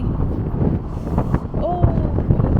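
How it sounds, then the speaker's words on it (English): Strong wind buffets the microphone outdoors at a small gas station in Kansas, a steady low roar with gusts and a brief faint tonal squeal partway through. "we stopped somewhere in Kansas at a little gas station and it is so breezy"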